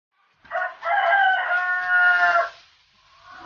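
A single hoarse, strained call from a chicken with breathing trouble, close and fairly loud, drawn out for about two seconds, with no talking.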